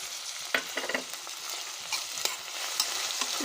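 Sliced onions, chopped mint and whole spices (cinnamon, cloves, mace, cardamom) fry in ghee with a dense, crackling sizzle, broken by stirring scrapes and small pops close by.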